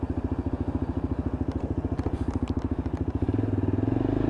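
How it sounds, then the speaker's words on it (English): A Lexmoto LXR SE Euro 5 motorcycle pulls away in second gear, its engine giving a close, steady rapid putter that deepens and swells as the revs rise near the end. "just sitting it in second gear as we pull out, going to get it out onto the road and give it a ride test"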